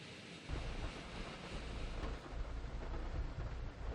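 A dense, continuous roar of heavy rain and rushing flood water, loud and unbroken, with a low rumbling undertone throughout, during a typhoon in Barangay Tatalon, Quezon City, Philippines.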